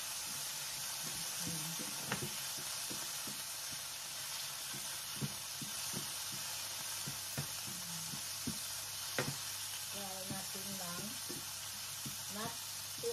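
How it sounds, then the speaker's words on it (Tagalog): Shrimp frying in a pan for a stir-fry with vegetables, a continuous soft sizzle with scattered light clicks and scrapes of stirring, fairly quiet and close, with brief faint voice sounds near the end. "i-fry muna natin yung shrimp"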